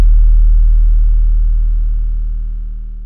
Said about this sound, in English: You get that nice fade out sound that a lot of 808s have.